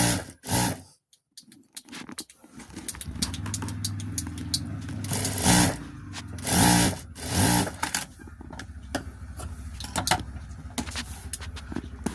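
A sewing machine stitches the main fabric and lining of an embroidered blouse together, its motor whirring steadily and close with a few brief stops and restarts, with no voices.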